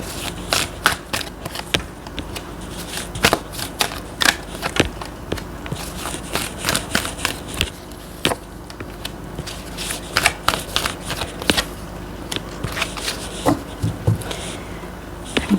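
Tarot cards being shuffled and drawn during a love reading, with repeated sharp riffling snaps and soft slides in an irregular rhythm, close and fairly clear with no talking.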